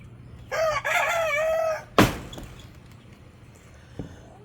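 A chicken gives a loud, drawn-out alarm call close by, followed by a sharp squawk and a faint cluck in otherwise quiet surroundings.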